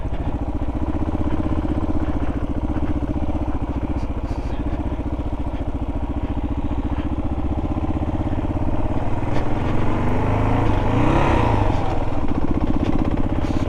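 A first-generation Kawasaki KLR650 thumps along off-road across a field, its single-cylinder engine chugging steadily up close, then revving and rising in pitch near the end.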